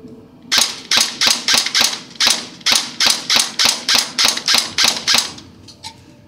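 A PPSh-41 airsoft gun with a drum magazine fires about fifteen sharp, evenly spaced single shots in a steady rhythm, loud and close, with a couple of fainter clicks after.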